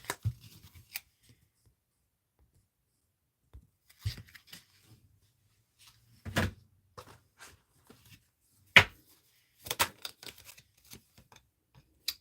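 Word cards being handled and drawn from a deck, heard as scattered crisp rustles, flicks and taps separated by silent gaps, close and fairly quiet.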